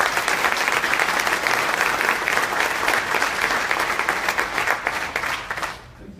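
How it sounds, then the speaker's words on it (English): An audience at a police awards ceremony gives a sustained round of applause, dense steady clapping from many hands that fades out near the end. "Let's give her a round of applause."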